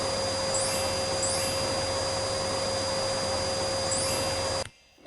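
A toy robot vacuum cleaner runs with a steady electric motor whirr and high whine, continuously, then cuts off abruptly near the end.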